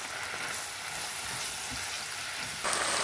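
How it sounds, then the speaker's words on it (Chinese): Sliced pork and colored bell peppers stir-fried in a wok give a steady, close sizzle with soft stirring scrapes, growing slightly louder near the end. "将肉片和彩椒翻炒均匀"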